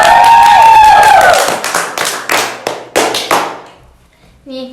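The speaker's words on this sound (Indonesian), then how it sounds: "Oke, tepuk tangan dulu." A small audience applauds together, starting as a dense loud burst under a shouting voice, then thinning into separate claps that taper off, with a voice picking up again at the end.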